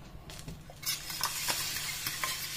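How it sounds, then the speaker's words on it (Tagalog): Spoon scraping and stirring a thick yema custard mixture in a pot, soft irregular scrapes with a faint sizzle of gentle bubbling underneath. "Kailangan lagi nyo hinahalo yan"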